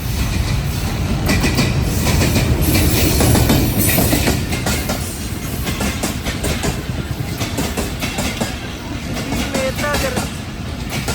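A train runs on rail tracks, a loud, close, continuous rumble with rhythmic clickety-clack and metallic rattle that lasts the whole stretch of about eleven seconds, easing slightly toward the end.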